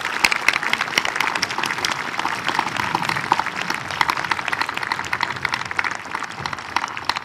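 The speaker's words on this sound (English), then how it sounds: "Let's give a round of applause" A high school graduation audience claps for two staff members, a dense, even round of applause that carries steadily from start to finish with no voices over it.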